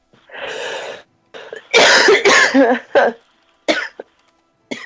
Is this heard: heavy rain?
no